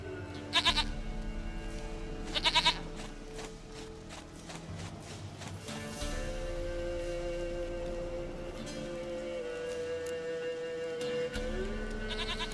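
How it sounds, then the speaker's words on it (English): A goat in The Witcher 3 lets out short, close bleats in separate bursts over a steady, humming game backdrop with faint movement sounds. "Goat of mine, dearest, sweetest goat."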